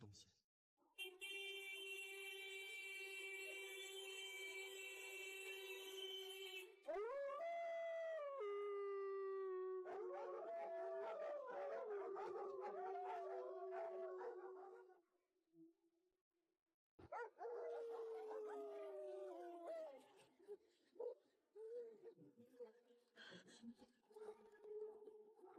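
Wild dogs howl in long, wavering rising and falling cries, several voices overlapping and then breaking into shorter yelps, loud and fairly near in a rural winter night, with a short silent gap midway.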